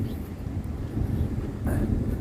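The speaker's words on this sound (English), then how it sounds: "it's like way too windy over here" Gusty wind at an open campsite rumbling against the microphone, a steady low roar with slight swells, moderately loud and without talk.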